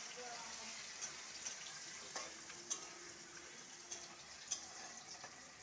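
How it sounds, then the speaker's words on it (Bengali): Onions fry in a pan for a chicken dish, giving a soft, steady sizzle with a few sharp clicks and pops scattered through it. "এবার আমি পেঁয়াজটা লাল লাল করে ভাজবো।"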